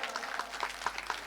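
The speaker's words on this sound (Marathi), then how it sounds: "जोरात टाळ्या वाजवा" Kirtan audience clapping at a religious gathering, a brisk, fairly steady patter of many hands with a few sharper individual claps standing out.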